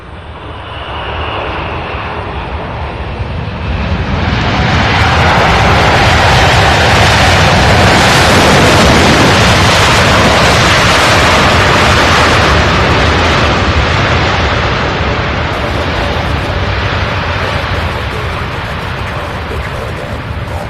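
An airliner lands at Louisville SDF airport, its engines swelling into a loud, roaring rush that peaks midway and then slowly fades, heard outdoors at close range with a voice talking over it.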